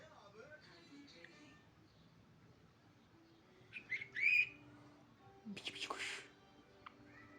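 A few bright chirps and short whistled tweets from a small bird, close by, with quiet talking and background noise around them.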